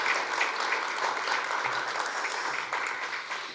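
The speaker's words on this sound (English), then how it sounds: "please just give them a round of applause before we get underway." An audience applauds the panelists of a business litigation discussion, a dense, steady wash of clapping from many hands that holds at an even level throughout, with no voices over it.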